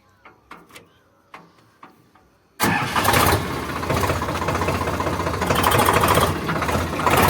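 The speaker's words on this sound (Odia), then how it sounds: "ମୁଁ ଦେଖନ୍ତୁ ଟ୍ରାକ୍ଟରଟିକୁ ଷ୍ଟାର୍ଟ କରିବା।" A tractor engine cranks and catches after a few quiet clicks, then settles into a loud, steady, rattling run close by.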